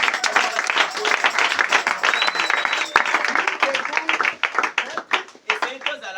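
Church congregation at a Sunday service applauding and cheering loudly, dense steady clapping filling the room with voices mixed in throughout, thinning slightly toward the end.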